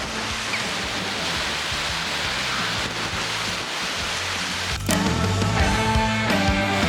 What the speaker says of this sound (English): There's a waterfall just here.